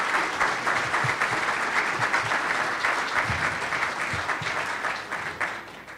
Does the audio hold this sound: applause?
yes